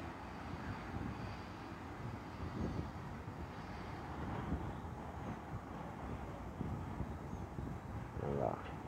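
An airplane takes off from Recife Guararapes International Airport, heard as a low, steady engine rumble at a distance with wind buffeting the microphone, fairly faint and continuous, and brief voices underneath.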